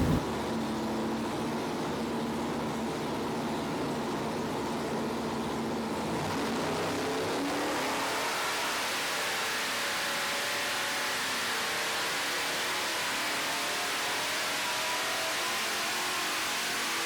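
A 540 cubic inch big block engine with a supercharger roars at sustained high revs, loud and steady with a broad noisy rumble that shifts in tone partway through.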